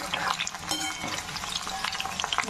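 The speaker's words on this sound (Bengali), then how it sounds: "ফুলকপিগুলো তেলের মধ্যে ছেড়ে দিয়েছি" Cauliflower florets sizzle steadily in hot oil as they fry for a yogurt cauliflower curry, a close, continuous crackle and hiss with no voices.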